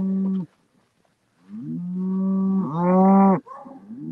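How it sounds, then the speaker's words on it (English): Cows on a farm moo impatiently at close range, one long low call, a pause, then a drawn-out moo rising into a louder, higher bellow, with another starting right after; no talking. "Cows are impatient."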